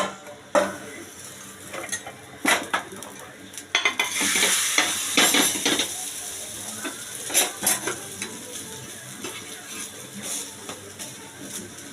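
A pancake made from dalia and flour fries in a pan, with soft sizzling under repeated scraping and clinking of a spatula against the pan. Bursts of stirring come and go.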